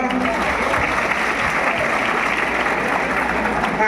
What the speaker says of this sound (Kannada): ಚಪ್ಪಾಳೆ ಕೊಡ್ರಿ ಒಂದು.